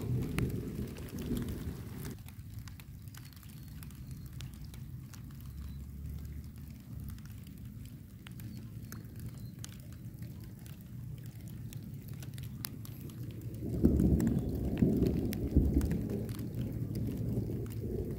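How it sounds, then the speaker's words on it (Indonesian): Light drizzle falls steadily at an outdoor wild fishing spot while tilapia are being caught, a soft continuous patter with low rumbling that swells louder near the end. "harusnya kondisi begini hujan-hujan manja begini"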